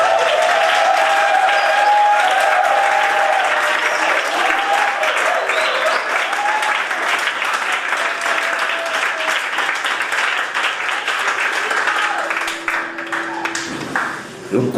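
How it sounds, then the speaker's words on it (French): A church congregation at an evening worship gathering in a community centre applauds and cheers the Lord in sustained, loud, dense clapping with crowd voices that fades toward the end. "Est-ce que tu veux bien quoi acclamer le Seigneur?"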